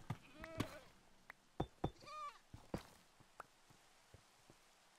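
Goats bleating in Minecraft, with short wavering cries mixed among sharp thuds and clicks and a little background noise.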